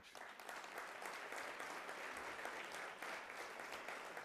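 An audience at a community breakfast applauds honorees with a steady wash of many hands clapping, even and continuous, heard at a fair distance and fairly soft.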